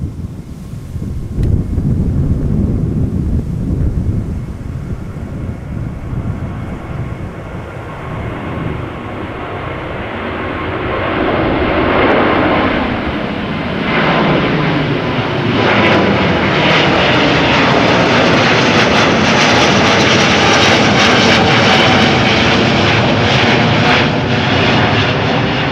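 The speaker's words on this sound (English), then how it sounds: "This is Delta Airlines Flight 165 Airbus A380neo going to Minneapolis." A Delta Airlines Airbus A380neo jet airliner at Amsterdam Schiphol Airport, engine roar building into a loud, sustained, sweeping rumble as it passes, with wind buffeting the microphone.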